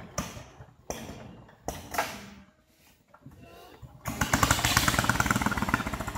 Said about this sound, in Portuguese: Já vai ligar o motor agora.